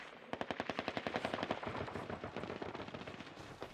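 Rapid automatic gunfire close by in a combat zone against Taliban fighters, a dense burst of sharp cracks in quick succession that slowly thins and grows less distinct.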